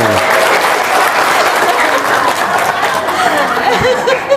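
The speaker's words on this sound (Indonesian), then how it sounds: "Tepuk tangan dong!" Audience applause at an Indonesian religious lecture gathering, dense and loud throughout with a crowd murmuring and a few chuckles mixed in.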